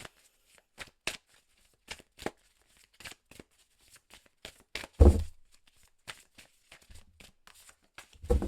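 Tarot cards are shuffled by hand for a card draw, giving a run of short, crisp riffling bursts at an irregular rhythm, with one heavier thump midway, heard close up in a quiet room.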